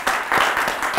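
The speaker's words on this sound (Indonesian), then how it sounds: "Boleh dong tepuk tangan dulu dong buat BW Purbanegara." A brief burst of audience applause for a guest on a talk show, with dense, close clapping from a small crowd.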